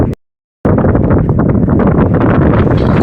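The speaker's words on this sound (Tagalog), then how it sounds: "Grabe ang lakas ng hangin." Strong wind at sea buffets the microphone in a loud, continuous roar after a short silent gap at the start.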